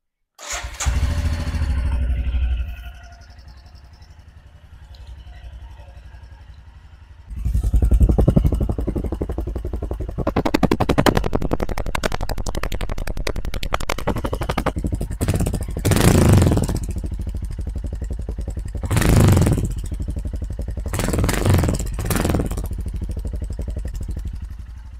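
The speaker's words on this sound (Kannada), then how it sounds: "ಸೊ ಗಾಡಿನ ಒಂದು ಸತಿ ಆನ್ ಮಾಡಿಬಿಡೋಣ." Motorcycle engine cold-started after a wash in Srinagar, turning over and catching, then running with repeated loud revving bursts, close and with no talk.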